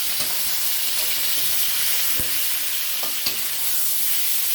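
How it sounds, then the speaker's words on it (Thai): Pork stir-fried in a hot pan for Thai rad na, a steady close sizzling hiss broken by a few sharp scrapes and taps of the spatula, no voices. "ผัดให้หมูสุกนะคะ"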